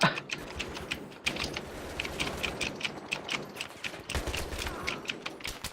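Frantic, rapid keyboard key mashing while playing Battlefield 3, dense fast clicking clatter close up, with excited voices in Thai mixed in.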